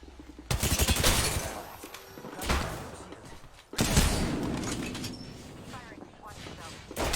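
Gunfire in the Apex Legends video game: bursts of rapid automatic shots in several loud volleys with short gaps between them, with voices talking in the clip.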